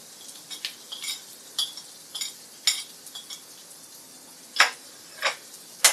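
A spoon scrapes and stirs coriander powder through frying onions in a pan, making a dozen or so sharp, irregular clinks and scrapes over a faint low sizzle, close and fairly quiet with no voices.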